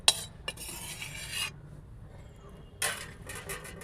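Clattering of a utensil and a metal plate as boiled saag greens are turned out into another plate, a few short bursts of scraping and a soft wet slide, close by with no talk.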